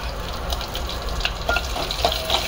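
Cumin seeds and green chillies sizzling in hot ghee, a steady close frying hiss with a few faint pops and clinks scattered through it, no voices.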